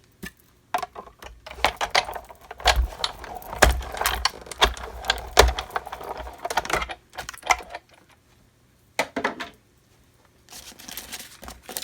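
A die-cutting machine cuts Old Olive and Whisper White cardstock, making a run of dense mechanical clicking and crunching with brief pauses, then a few scattered clicks near the end.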